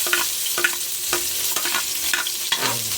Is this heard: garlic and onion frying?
yes